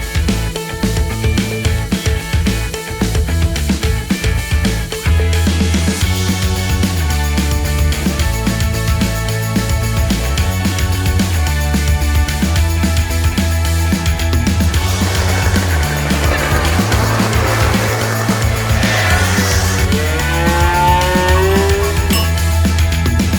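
Lambretta and Vespa scooters ride together on a mountain-pass road trip in the Dolomites, loud engines droning and buzzing steadily up close, pitch rising and shifting as they accelerate, with no talk over it.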